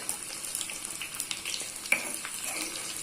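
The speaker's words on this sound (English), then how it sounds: "I'm going to add them into the ghee. So let us fry this garlic" Finely chopped garlic frying in hot ghee for a tadka, a close, moderately quiet crackling sizzle with scattered pops and one sharper spit near the middle, no voice over it.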